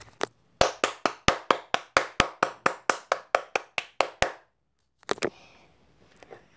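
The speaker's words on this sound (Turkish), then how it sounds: "Hani nerede bir koca alkış?" A small group of hands clapping in a classroom setting, about twenty sharp, evenly spaced claps that stop abruptly, followed by a brief scuffle and quiet.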